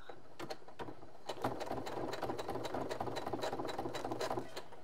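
A sewing machine stitches the rib-knit band onto the seam of a Teddy bomber jacket, running with a fast, continuous mechanical chatter after a brief start, close and steady.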